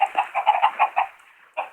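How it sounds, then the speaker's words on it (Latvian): Chickens in the Minecraft PE video game cluck in a quick series of short, bright bursts, with a brief pause before two more clucks close the sequence. "Tās ir tipīgās vistas."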